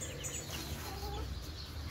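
Hens and a large rooster on a small backyard poultry farm cluck and call softly at a distance over steady low background rumble, with no voices.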